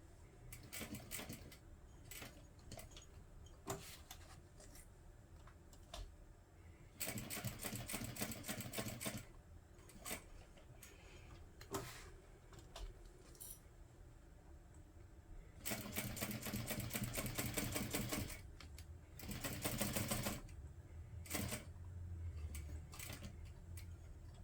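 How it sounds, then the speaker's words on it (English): A sewing machine runs in several bursts while top-stitching around a vinyl pouch at a 1/8 inch seam allowance. There are two long, loud runs and shorter stitching passes between them, with pauses where the pouch is turned at the corners. "now we're just going to top stitch all the way around the pouch using a 1/8 inch seam allowance"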